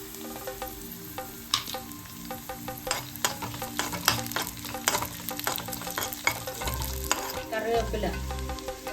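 Shallots and green chilies temper in coconut oil for Onam sambar, crackling and popping in sharp irregular bursts over a steady sizzle, with low thumps of stirring near the end.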